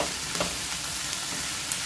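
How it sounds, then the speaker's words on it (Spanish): Onion, ginger, garlic and chili frying in oil for spaghetti with minced meat, a close, steady sizzle broken by a few light stirring taps, no talking. "Vamos a freír con aceite"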